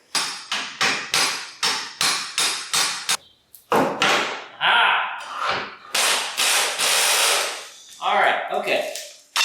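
Wrench work on a stuck leaf spring shackle bolt of an abandoned Tri 5 Chevy: a quick run of about eight sharp metallic strikes, then several longer, harsher bursts of grinding, rattling metal, close and loud.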